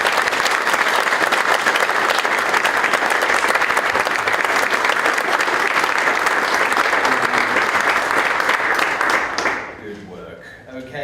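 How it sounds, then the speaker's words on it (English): Loud, dense applause from an awards dinner crowd cheering the finalists, sustained and steady for about nine seconds before tapering off abruptly as a voice begins speaking. "how about a huge round of applause for all of tonight's incredible finalists"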